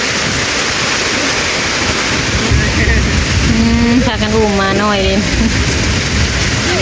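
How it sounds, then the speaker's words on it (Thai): Heavy rain pours down in a dense, constant hiss, while a person talks briefly over the downpour. "ฝนตกพี่น้อง"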